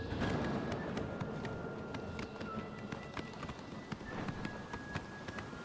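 Shadowmere, the ghostly black horse in Oblivion Remastered, gallops on steadily with quick, even hoofbeats that continue throughout, fairly faint under ambient game background noise.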